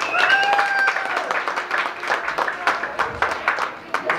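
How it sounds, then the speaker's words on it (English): A comedy club audience claps, a moderate scattered round of applause with a few sharper claps near the end, while voices and whistle-like cheers sound over it. "Give yourselves a round of applause for coming out tonight."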